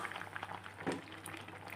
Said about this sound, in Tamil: நல்லா கொதிக்குது பாருங்கள்.